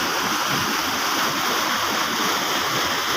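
Steady, dense rush of a natural canal in flood flowing close and continuously, with no voices, like a stream running over rocks.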